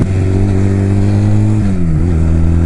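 Honda Rebel 250 motorcycle engine revving after a downshift through its slipper clutch, a loud, close, steady drone that drops in pitch partway through the short burst.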